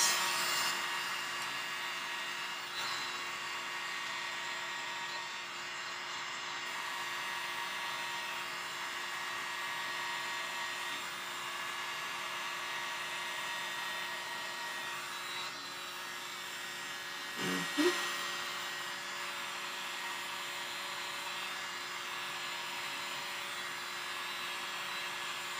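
Steady airflow blown across a wet poured-paint surface, a continuous broad hiss held near the mic for the whole stretch, with a brief thump partway through.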